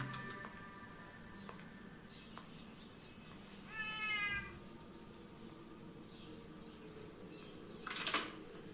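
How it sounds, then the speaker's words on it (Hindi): Cats meow indoors, one drawn-out meow midway and another sharp cry near the end, both over a quiet background hum. "इन बिल्लियों का कुछ करना पड़ेगा।"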